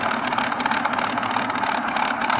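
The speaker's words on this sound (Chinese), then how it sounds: "然后紧接着就是怠速的声音。" Steady idling engine from a sound unit made for a 1/35 scale Orlando model, a continuous even loop that plays loud and alone with no pauses.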